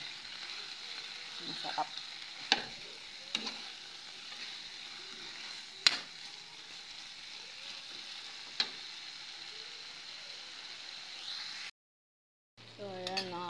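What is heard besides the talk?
sautéing winged beans (sigarilyas) in a pan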